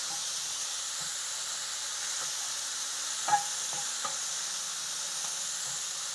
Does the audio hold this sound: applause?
no